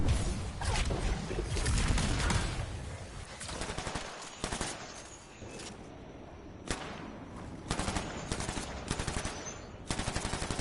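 Rapid bursts of gunfire from the video game Anthem, loud and close, with dense automatic fire and short gaps between volleys.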